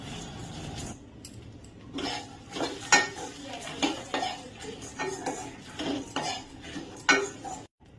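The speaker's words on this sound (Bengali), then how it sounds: "ওটস, মাখানা, খই, চিড়ে আর মুড়ি, দিয়ে সব মিশিয়ে হালকা লাল লাল করে একটু ভেজে নেব" Oats, makhana, puffed rice and flattened rice are stirred and lightly fried in a pan, with a spoon scraping and clinking against the metal in repeated bursts and a low sizzle underneath; no one speaks.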